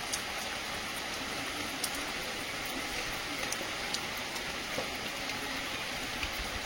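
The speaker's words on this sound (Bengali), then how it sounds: "কিন্তু ওয়েদার এখন হঠাৎ বৃষ্টি" Quiet, steady rain patters in the background, a soft even hiss with occasional louder drips; no one speaks.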